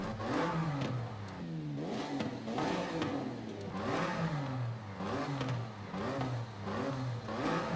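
Stock engine of a Toyota Camry in Forza Horizon 5, revving repeatedly in rising and falling sweeps at a moderate level, with a buzzy, thin tone that is heard alone.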